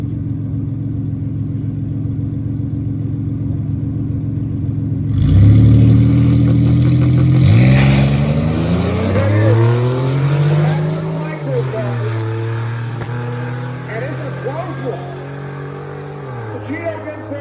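A rear-mounted V6 swapped into a Geo Metro, sitting behind the front seats, idles steadily and then revs hard in rising and falling pulls, loud and close, with some tire noise mixed in.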